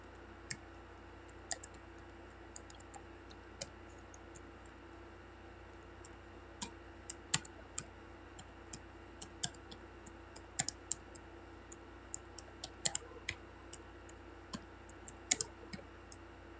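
Sparse, irregular clicks of typing on a computer keyboard, faint and close, tapping in short bursts over a quiet hum.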